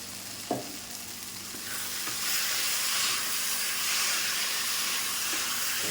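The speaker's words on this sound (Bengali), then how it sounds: "চিনিটা ভালো করে মিশিয়ে নিচ্ছি।" Taro stolons coated in spices and sugar are stirred in a hot pan for a prawn dish, giving a steady loud sizzle and hiss with a few soft spatula knocks, building slightly after the start.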